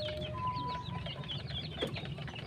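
A free-roaming backyard chicken clucks several times at close range, soft short calls over faint outdoor background noise with a few chirps from other birds nearby.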